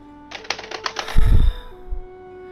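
Keys clatter in a quick burst of light taps on a keyboard, close and crisp, followed by a brief low thump and some faint background hum.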